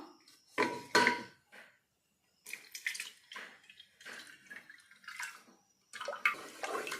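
A utensil scrapes and swishes through thick batter cooking in a metal pressure cooker, in irregular bursts of stirring separated by short pauses.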